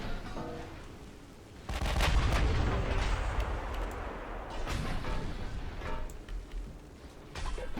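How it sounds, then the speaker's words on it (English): Battleship main guns fire in an Ultimate Admiral Dreadnoughts naval battle involving a US super battleship, with loud booming salvos from around 1.7 seconds on over a constant rumbling battle din, and a few sharper reports toward the end. "Oh, the other battleship is firing now."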